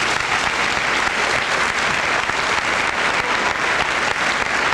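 A packed high school senior assembly audience at Port Huron High claps loudly and steadily, a dense, even roar of applause lasting several seconds with no talking.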